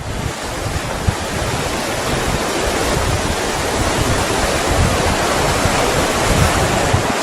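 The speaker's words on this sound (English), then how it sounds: "Quite windy down here." Strong, steady wind roars across the microphone on a seaside walkway in Funchal, Madeira, blending with the broad hiss of surf on a gravel beach in a continuous loud rush.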